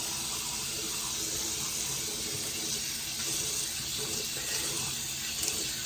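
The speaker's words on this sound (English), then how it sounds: "I'm trying to wash out my sink now" Water running steadily from a tap into a hotel sink during rinsing, a constant, close hissing splash with no pauses.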